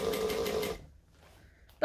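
A sewing machine stitching along the bulky edge of a fringed bag: a brief close burst of fast mechanical whirring and chatter that stops abruptly, followed by near silence and a short clack.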